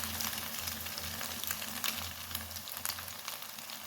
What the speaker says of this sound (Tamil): ஆயில் சூடானதுக்கப்புறமா நாம் கலந்து வச்சுருந்த கலவையெல்லாம் இதில் ஊற்றிடலாம்.